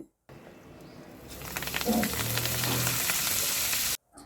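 Coriander leaves fry in an oiled kadai for a coriander pickle: after a quiet moment a loud, steady sizzle swells in and holds close and even until it cuts off abruptly.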